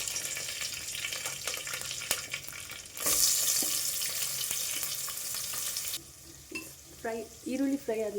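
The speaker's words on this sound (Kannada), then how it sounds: "ಒಗ್ಗರಣೆ ಕೊಟ್ಬಿಡ್ತೀನಿ ಫಸ್ಟು" Tempering for jackfruit seed sambar sizzles in a pan with scattered clicks of stirring. A loud burst of crackling oil follows, then a voice speaks briefly over fainter frying at the end.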